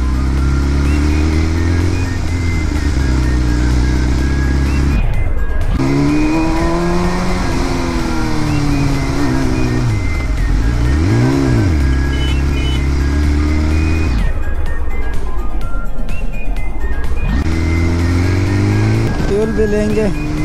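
A BMW S1000 RR sport motorcycle revs hard on a street in Jamshedpur, its engine note rising and falling repeatedly in loud, close bursts with brief drops between pulls, while people talk excitedly over it.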